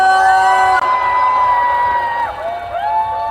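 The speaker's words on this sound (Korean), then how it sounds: "박수 한번" A festival crowd at the Sunchang Jangryu Festival opening-ceremony concert cheers and shouts loudly, with high voices ringing out over a dense roar that fades slightly toward the end.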